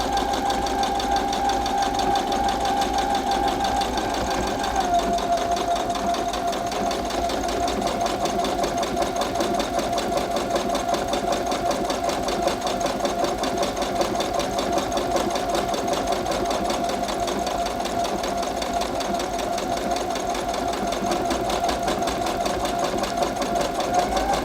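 Industrial sewing machine stitching a buttonhole, running continuously at a steady, fast mechanical whirr with rapid rhythmic needle ticking and a faint shift in pitch partway through, with no talking.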